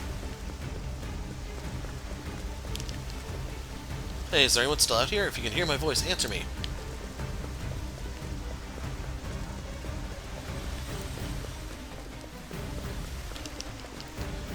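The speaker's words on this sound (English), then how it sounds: "Damn it, poison rain on the day of the coronation?" Poison rain falling steadily in Octopath Traveler 2, a constant rain hiss with a low thunder rumble, while a man calls out over it.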